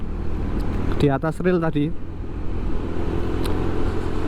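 Cars move in and out along a slippery road at a tourist spot in Malang during Eid al-Adha, with a steady low rumble of traffic. A voice speaks briefly partway through.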